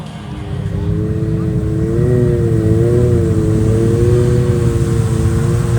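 An off-road PATV build drives through a slough of water about 3.5 to 4 feet deep on a trail challenge. Its engine hums steadily and rises as it revs, loud and near, with a wavering tone over rumbling low noise.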